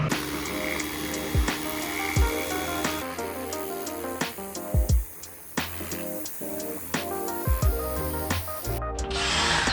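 A power drill whirs steadily, drilling around a metal bushing to pull out its sleeve, with repeated sharp metallic knocks and clunks, close by, ending in a brief stop.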